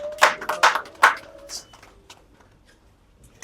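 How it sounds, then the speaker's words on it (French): Short burst of audience applause for Jonathan Gambela: a few brisk, uneven handclaps from a small crowd, fading quickly into near silence. "Est-ce qu'on peut applaudir, s'il vous plaît,"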